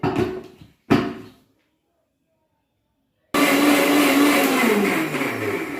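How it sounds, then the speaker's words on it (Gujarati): A mixer grinder blending a milk drink whirs in two short bursts, falls silent, then runs again in a loud, steady whine whose pitch drifts slightly. "મિક્સરમાં મેં પીસી લીધું છે"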